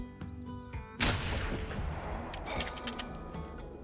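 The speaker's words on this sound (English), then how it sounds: "Let's get a shot into him if we can." A 30-06 rifle fires a single loud shot at a mule deer buck in the hunting game theHunter Classic. A sudden sharp crack is followed by a long rolling echo, with faint outdoor ambience and bird-like chirps around it.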